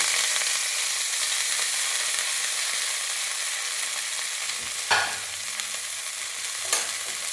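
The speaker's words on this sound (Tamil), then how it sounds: "இதை நல்லா சூடுல வதக்கணும்" Fresh coriander leaves sauté in a hot pan for thokku, giving a loud, continuous hissing sizzle with a couple of brief scraping stirs.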